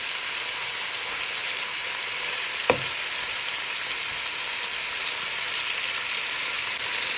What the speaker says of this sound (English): we're just browning the beef, not cooking it